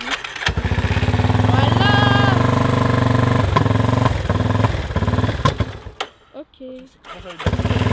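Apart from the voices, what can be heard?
quad engine running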